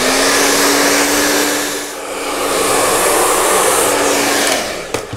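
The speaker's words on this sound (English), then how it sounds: "you see what you can do with a nice hot blow dryer and a big round brush" A hot blow dryer runs close and loud while drying curly hair with a big round brush. Its steady roar and high whine hold throughout, dip briefly about midway, and end with a sharp click as it switches off.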